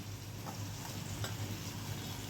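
Continuous crackling sizzle of spices tempering in hot oil for an eggplant curry, steady and close.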